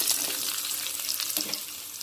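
Onions sizzle and fry in hot oil alongside roasted cashews for jeera rice, a steady crackling hiss that fills the pan continuously at close range with no voices.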